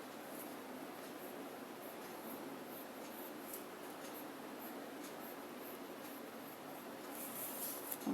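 Pencil scratching steadily across paper while joining two arcs in a geometry construction, a continuous soft rasping stroke close up with no talk.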